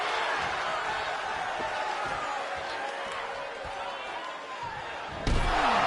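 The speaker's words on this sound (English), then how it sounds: "Nice big old suplex by the Hog, and a headbutt using that pig mask" Wrestling impacts from WWE 2K25, a suplex slam and a pig-mask headbutt, land as dull thuds over a steady crowd roar, with a sharp heavy slam near the end and speech running through.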